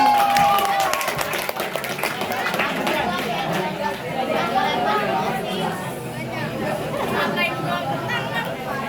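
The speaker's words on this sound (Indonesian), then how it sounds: "Kita tepuk tangan untuk kejujuran kalian." Students at a school literacy day clap for their classmates, a dense spread of hand claps mixed with lively chatter and crowd babble filling the room throughout.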